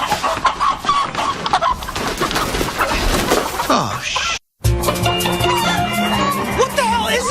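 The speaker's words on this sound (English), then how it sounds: "Why are there chickens everywhere?" Chickens clucking and squawking close by, busy and overlapping, with a brief pause before more clucking resumes; a voice exclaims briefly.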